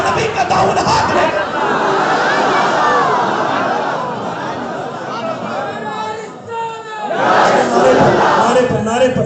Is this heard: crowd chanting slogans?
yes